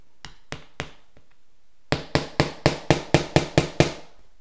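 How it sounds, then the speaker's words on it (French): Toy Barbie hammer striking repeatedly, a few sparse taps followed by a rapid run of about nine sharp, close knocks at a steady rhythm. "c'est mon fameux marteau Barbie qui ne va pas"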